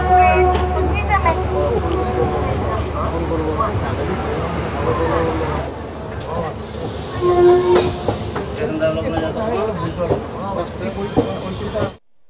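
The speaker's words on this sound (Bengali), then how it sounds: "তো আমাদের ট্রেন এখন মুঘলসরাই থেকে বেরিয়ে এখন কাশির দিকে এগাচ্ছে।" Doon Express (13009) running between Mughalsarai and Kashi: close, loud rolling rail noise with rhythmic clatter of wheels on track, easing after midway, with some talk over it.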